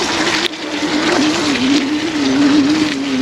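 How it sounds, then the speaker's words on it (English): Hovsco A5 electric mountain cruiser e-bike motor running in top gear: a steady, close droning hum that wavers slightly in pitch, continuous throughout with road and wind rush underneath and no talking. "I can hear the motor kicking in."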